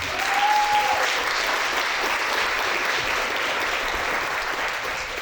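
Sustained audience applause for award recipients at an annual police-community relations awards ceremony, a broad, even roar of many hands clapping at steady loudness with a brief whistle near the start.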